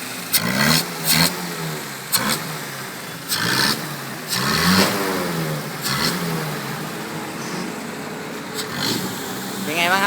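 A Mazda 1000 engine converted to a carburetor revs hard with a stuck throttle and stays high, surging repeatedly with people talking loudly over the roar nearby.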